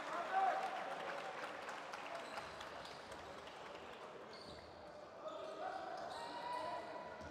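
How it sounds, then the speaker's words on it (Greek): Crowd applause for the home team captain at a Greek Elite League basketball game, Doxa Lefkadas against Panerythraikos, a quiet distant patter in a gym with a commentator talking over it. "Ενώ δέχεται το χειροκρότημα ο αρχηγός της δόξας"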